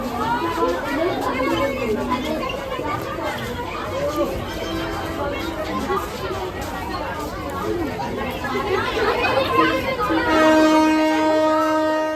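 A packed commuter train sits at a busy suburban station as crowds squeeze aboard, dense chatter and platform bustle building until a long, loud horn sounds near the end.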